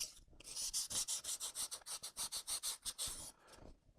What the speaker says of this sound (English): edges are sanding down nicely. I'm ripping the shit out of my sand sponge though